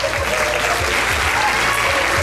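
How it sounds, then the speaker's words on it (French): An audience at a mentalism magic show applauds loudly for a volunteer, with dense continuous clapping and a faint low murmur underneath. "vous pouvez l'applaudir très fort"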